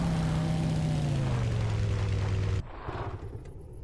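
Minigun and rocket drones in the video game Empyrion flying overhead with a loud droning engine whine that slides downward in pitch, then cuts off abruptly into quieter game ambience.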